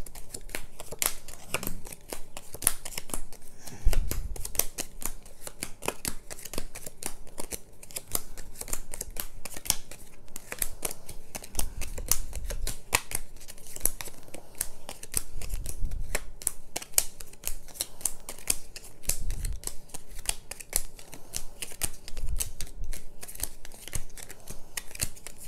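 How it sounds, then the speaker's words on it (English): Playing cards are dealt out into three hands for the HeartSwitch card game, giving close, soft, repeated flicks and taps with occasional dull thumps as cards land on the table, and no talking. "So let's just deal out some cards here."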